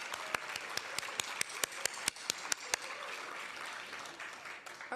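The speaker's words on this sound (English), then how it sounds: "You got to give Kathleen another round of applause." Convention audience applause thins into a few sharp, distinct claps that ring out near the microphone before fading into a soft room murmur.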